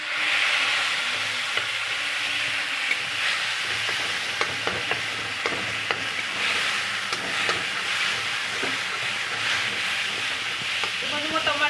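Whole tomatoes sizzle in a pan with dal being cooked, a steady frying hiss broken by occasional sharp crackles and the clink of stirring throughout.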